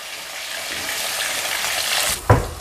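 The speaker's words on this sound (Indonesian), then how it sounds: "kita lanjut goreng tempe teman-teman" Tempeh fries in hot oil, a steady broadband sizzle running throughout with a louder burst of crackling near the end, close and alone with no talk.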